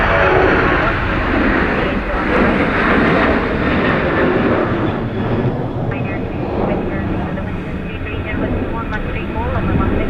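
An airplane lands in a crosswind on runway 16 at Dublin Airport, with a loud, sustained roar of engine and wind that holds throughout as a person talks over it.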